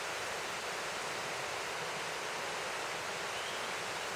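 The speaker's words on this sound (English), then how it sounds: "And here we are at the waterfall itself." Skeleton Gorge waterfall on the back of Table Mountain pours with a constant, close, full-bodied rush of falling water, a steady unbroken hiss with no pauses or voices.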